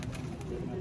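A soft, low cooing from an old Sialkoti breed rooftop pigeon, one brief murmuring call, faint and close.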